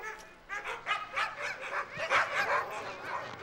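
Excited sled dogs in harness give a rapid flurry of close, overlapping barks, yips and whimpers, rising and falling in quick bursts.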